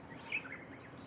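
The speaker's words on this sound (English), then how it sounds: "Listen to the birds." A faint, brief bird chirp rises once from a steady hum of background noise in Shimanto town, Japan, with no other calls following.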